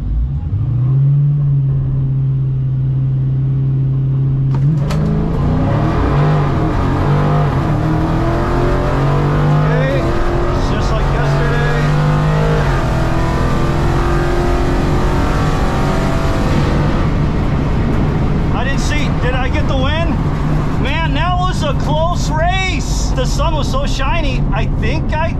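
Drag cars at Rockingham Dragway, including a Gold Mango Dodge Hellcat, launch in a street HEMI bracket race: a low idle rumble gives way to a loud surging roar as the engines rev hard and pull away, with people talking near the end.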